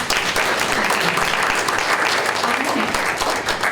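A luncheon audience at a chamber of commerce event bursts into sustained applause, dense and steady from start to finish, with a little chatter mixed in.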